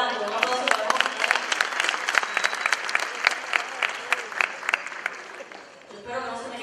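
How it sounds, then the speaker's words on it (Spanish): Audience applause at a youth choir show in Cárdenas, Cuba: sustained clapping from a crowd, steady and dense throughout, tapering near the end. "Un aplauso para José."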